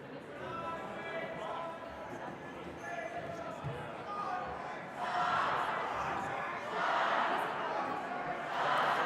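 At a senior boys' championship basketball game, the crowd roars and swells louder in waves as it rallies behind the Falcons, with a commentator talking over the rising noise.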